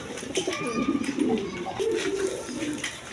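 Pigeons coo in a low, rolling series of repeated calls, several birds close by with a steady murmur of background noise; these are young high-flying pigeons kept for sale.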